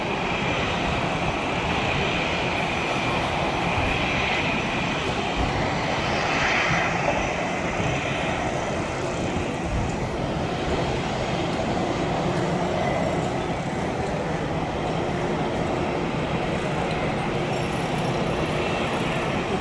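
An Air India passenger jet taxis toward the domestic terminal at Chennai airport after landing, its engines giving a steady, loud, continuous roar with no talking.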